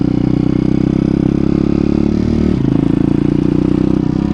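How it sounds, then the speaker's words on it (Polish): A 170 cc pit bike engine runs at slightly raised revs, a loud, steady buzzing drone with a rapid even pulse that drops a little in pitch partway through, close to the microphone. "naciskam to ma troszkę wyższe obroty"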